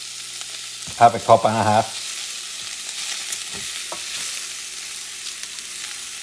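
Rice for arroz carreteiro sizzles gently in a pan while being stirred, giving a soft, steady hiss with occasional light scrapes after a brief spoken remark at the start.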